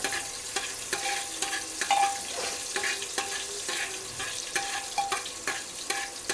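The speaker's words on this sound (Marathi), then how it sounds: "तेल आपलं मस्त की छान तापलेलं आहे आणि त्याच्यात टाकलेलं टाकते मी हा अर्धा कांदा जो बारीक चिरून घेतलेला आहे थोडंसं अगदी फ्राय करून घेऊया आपण त्याला" Finely chopped onion frying in hot oil in a pan, with a continuous loud sizzle and a regular rhythm of spatula scrapes and taps throughout, no speech.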